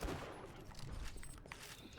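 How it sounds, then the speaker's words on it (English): A Jacobs pistol fires in Borderlands The Pre-Sequel, a few quick, faint cracks over a busy, low-level game background. "This Jacob's pistol is not quite as accurate as I would like it to be."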